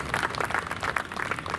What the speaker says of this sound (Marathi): त्यांचे आपण या ठिकाणी टाळ्या वाजवून स्वागत करूया.